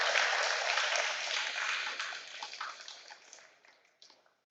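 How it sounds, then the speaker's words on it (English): An audience at an award ceremony gives steady applause that holds at a moderate level, then thins into scattered claps and dies away over several seconds. "So let's give a round of applause to Mr."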